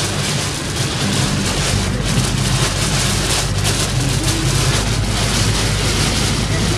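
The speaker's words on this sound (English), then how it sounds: "Pouring so hard, and we're barely going 35 miles an hour on the freeway." Heavy rain pours onto a car crawling along a freeway at about 35 mph, making a loud, dense, steady roar of water and road noise mixed with a low engine hum, and no talking.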